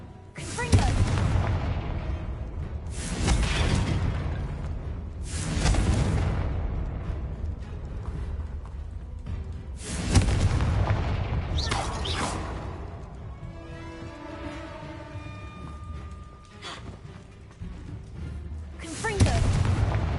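Repeated loud blasts from the Confringo fire spell in a Harry Potter video game, about five bursts spaced a few seconds apart, each a sharp booming burst with a swooshing tail, while voices speak faintly between them.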